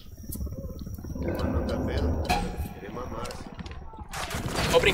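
Gunfire bursts from a firefight in the video game Ghost Recon Wildlands, with rattling volleys and sharp cracks over a rumbling background, mixed with voices, growing denser toward the end.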